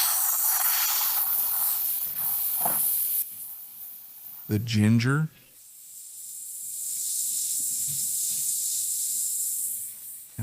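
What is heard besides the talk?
chicken frying in oil in a frying pan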